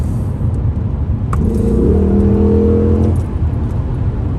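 A Lexus SC430 fitted with a throttle controller revs once over a steady idle, the engine note rising and holding for about two seconds before settling back, loud and close, with no voices.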